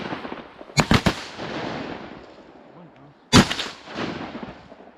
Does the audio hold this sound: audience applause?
no